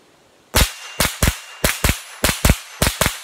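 A Ruger 10/22 semi-automatic .22 rifle firing about ten sharp, close shots in quick irregular pairs and singles over roughly three seconds, each crack loud against a quiet background.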